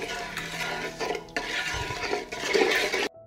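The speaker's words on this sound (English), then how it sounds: "I will stir and wait for the marinade to boil." A spoon stirring marinade in a pan on the stove, repeated close scraping and swishing strokes with faint liquid bubbling, steady and moderately quiet, ending abruptly, no talking.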